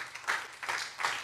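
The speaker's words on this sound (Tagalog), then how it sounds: "pumalakpak para sa Diyos." Congregation clapping in a church worship service, a short burst of applause with rhythmic claps in a steady pattern.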